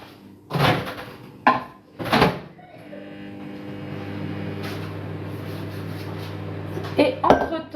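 A microwave oven door clicks and bangs shut a few times in a home kitchen, then the oven runs with a steady, close hum while butter melts in a microwave bowl for a marble cake.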